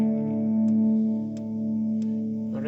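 Guitar through the overdrive 2 effect of a Zoom 9150 Valve DSP pedal, tube-screamer-like: a steady, mildly driven sustained chord ringing on its own for a couple of seconds with faint pick clicks.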